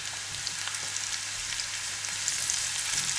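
Zucchini dropped into a pan with softened onion and carrot sizzle in a steady, bright, hissing fry that holds close and even throughout, with no voices.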